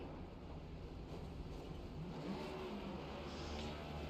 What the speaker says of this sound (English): Burnouts. Who doesn't like burnouts?